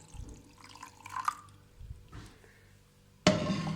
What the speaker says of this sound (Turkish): O yüzden daha ufak bir süzgeç yardımıyla tekrar süzüyorum.